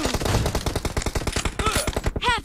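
Rapid automatic gunfire from the mobile video game PUBG Mobile fires in a fast, steady burst of many sharp shots close up, ending with a brief swooping electronic effect.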